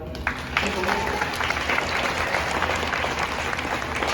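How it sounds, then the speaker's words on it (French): A crowd at a sports centre claps for an athlete during qualifying trials, brisk applause running steadily under a voice speaking over it. "on peut-tu faire une grande main d'applaudissement?"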